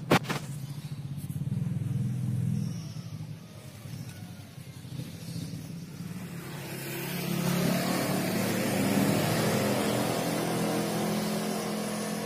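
Cars drive along a road where floodwater has just receded, a steady low rumble of passing traffic that swells louder in the second half as a vehicle draws near.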